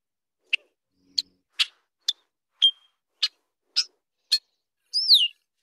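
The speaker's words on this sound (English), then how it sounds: "There are 10 different calls from a male Redwing Blackbird." A male red-winged blackbird gives a series of sharp alert calls: eight brief, clipped chips spaced about half a second apart, followed by a longer slurred descending note, clear and close against silence.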